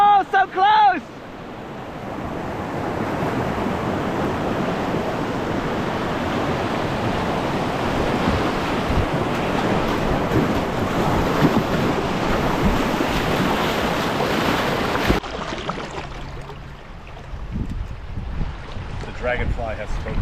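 Ocean surf roars and crashes around a kayaker paddling in waves, a loud sustained wash with wind buffeting the microphone, dropping away suddenly near the end, with a voice briefly at the start.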